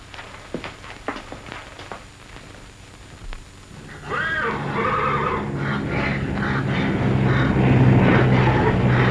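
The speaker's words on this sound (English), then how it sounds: "I'm going out to harness the horses." Horses on a farm being harnessed whinny and neigh; scattered knocks and footsteps come first, then a loud sustained neigh with rising and falling calls over continuous low rumbling.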